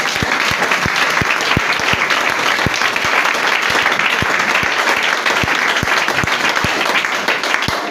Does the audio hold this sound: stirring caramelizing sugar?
no